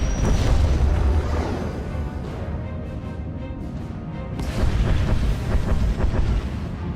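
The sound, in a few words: starship bombardment explosions in Star Wars: The Old Republic video game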